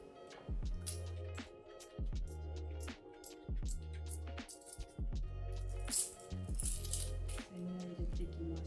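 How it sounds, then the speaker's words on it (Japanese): Small coins dropped one after another into a mini wallet, a string of crisp metallic clinks and jingles at close range, fairly quiet and irregular, with no talk. "あとは小銭を入れていきます。"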